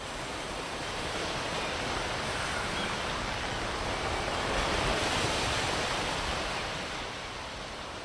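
Beach surf along the coast, heard as a continuous broad hiss of breaking and washing waves that swells gently midway and eases at the end, with no voices.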